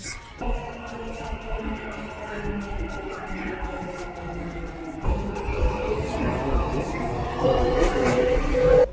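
A Dubai Metro train in motion, heard from inside the car as a continuous hum and rumble with tonal whine; the noise swells louder partway through as the train speeds up, with faint voices in the background.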